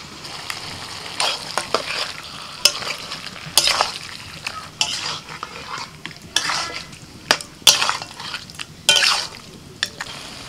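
Chicken sizzling in a pan as it is stirred with ginger, garlic and green chili paste, steady frying hiss broken by repeated scraping strokes of a spoon against the pan, close and fairly loud.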